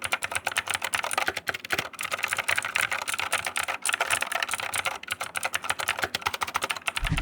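Fast, steady typing on a mechanical keyboard, with dense, crisp key clacks rattling continuously up close and no voices.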